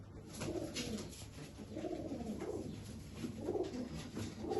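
Golden (Sialkoti) pigeons coo close by in repeated soft, low, rolling phrases that overlap over a faint steady background.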